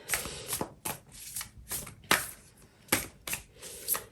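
Tarot cards shuffled and drawn from a deck, close, soft riffling bursts and slaps in an irregular rhythm, quiet with no talk.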